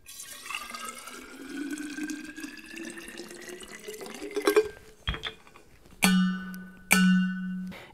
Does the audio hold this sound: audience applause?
no